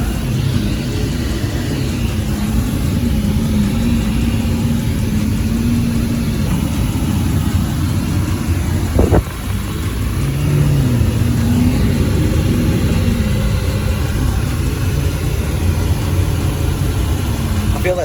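Lamborghini Aventador Pirelli edition with its engine idling, a loud, steady low droning rumble heard from inside the cabin, with one brief dip midway and a voice talking over it.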